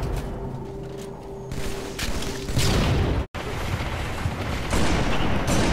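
Rocket launcher fire and rocket explosions in the Halo video game: loud, dense booming blasts that keep up with little pause, broken once by a split-second dropout.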